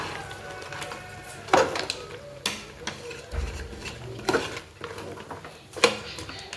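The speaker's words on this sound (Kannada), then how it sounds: "ನೀಟಾಗಿ ಇವಾಗ ಮಿಕ್ಸ್ ಮಾಡ್ಕೊಳ್ಳೋಣ" A spoon stirs mutton sambar masala in a cooking pot, giving scraping swirls and several sharp clinks and knocks against the metal at irregular intervals, close and fairly loud.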